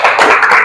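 A classroom audience claps together in a brief, dense burst of hand claps, close and loud, with no talk over it.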